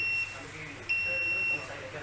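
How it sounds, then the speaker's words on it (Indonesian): An electric buzzer tested on a 24 volt supply gives two steady, shrill electronic tones, a short one followed by a longer one after a brief gap, sounding close and loud. "Kemudian kita tes di buzzer menggunakan tegangan 24 volt."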